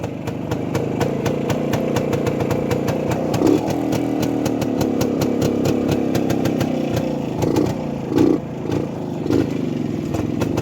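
A vintage Yezdi 175 cc two-stroke, three-speed motorcycle with points ignition fires up and runs with a steady, loud, rapid popping beat and some mechanical clatter, held close with a few sharper bursts of throttle.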